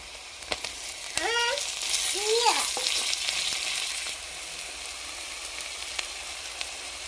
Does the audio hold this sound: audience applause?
no